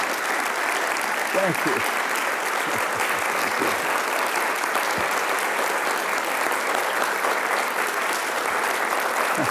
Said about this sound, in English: I never got applause before.